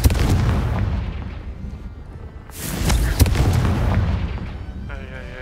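A Confringo fire spell blasting in Hogwarts Legacy, heavy booming explosions that swell and fade, with a second loud burst midway and a tonal magical chime at the end.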